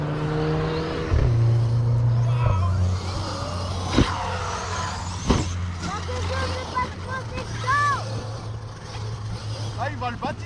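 Traxxas Revo RC truck driving on grass outdoors, its motor whining and revving in varying pitch with brief clunks, mixed with people chatting nearby.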